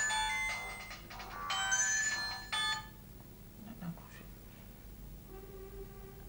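A phone ringtone chimes in repeated bright melodic bursts, fairly loud, then breaks off as someone speaks and a softer tone sounds near the end.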